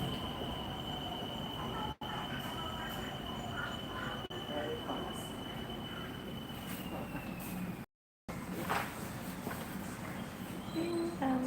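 A BTS Skytrain in Bangkok rolls along with a steady rumble, its wheels squealing in a long high tone, and a brief gap partway through.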